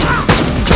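Frank fires during a fight scene in Daredevil Born Again, a loud burst of rapid gunshots forming a dense fusillade that drops out briefly and then resumes, close and dominant.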